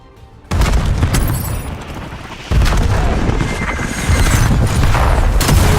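Frag grenade blast in a military shooter video game, a sudden loud boom followed by rumbling debris, then a second heavy explosion and continued booming and crackling.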